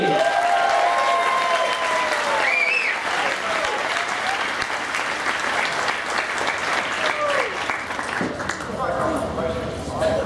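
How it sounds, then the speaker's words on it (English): Sustained audience applause welcoming a second-place BMW Motorrad superbike race finisher to the stage at Donington, loud and continuous clapping throughout with a presenter talking over it. "let's keep the round of applause going"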